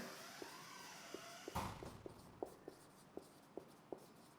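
Chalk or marker writing on a board during a physics lecture, a series of light, evenly spaced taps and strokes, faint and close, with one brief scraping burst partway through.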